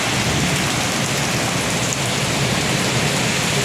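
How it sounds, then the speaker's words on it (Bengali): Heavy monsoon-season rain pours down in a dense, unbroken roar, close and loud, with no voices over it. "বিশাল জোর বৃষ্টি হচ্ছে"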